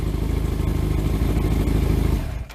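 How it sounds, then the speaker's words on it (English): A Thunderace motorcycle engine idles loud and close through a noisy exhaust, a steady throbbing rumble with mechanical clatter that dips at the end. "So now I'm happy that the engine's running."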